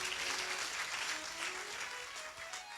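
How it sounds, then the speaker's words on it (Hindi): Church congregation applauding in praise of Jesus Christ during a Hindi sermon: a steady, dense wash of clapping that stays fairly soft and distant throughout, with no voices over it. "एक बार जोरदार यीशु मसीह के लिए ताली बजाओ।"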